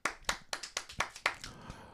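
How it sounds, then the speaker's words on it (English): Eight or nine sharp, evenly spaced hand claps from a single person, close and fairly quiet, with no talking. "let's clap"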